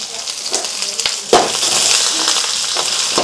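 Mustard seeds, green chillies and curry leaves crackle and sizzle loudly in hot oil for a tempering, a steady close hiss with sharp pops and occasional stirring knocks.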